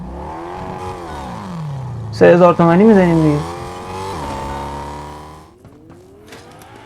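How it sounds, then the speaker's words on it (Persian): A car engine in the video game Fortnite rises and falls in pitch with a sharp revving burst in the middle, close and loud, while a player talks over it. "صدا ماشین"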